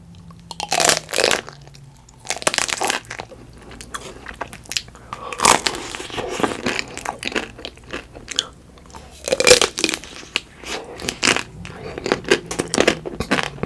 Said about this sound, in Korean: 초콜릿 아이스크림부터 먹어볼게요.